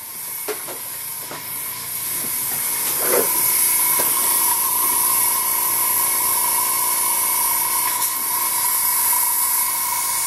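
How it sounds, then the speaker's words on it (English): An air compressor hums steadily alongside a constant hissing spray of air from a Badger Patriot 105 airbrush at about 12 PSI, with a few faint clicks at the start, continuous and fairly loud. "And I apologize for the noise on the compressor."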